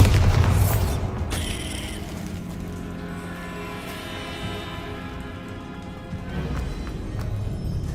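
A Bombarda spell explosion in the Hogwarts Legacy video game hits as a loud, booming blast at the very start, then fades into a long rumbling, rattling tail.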